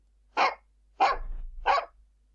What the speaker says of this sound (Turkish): A dog. It's a black dog.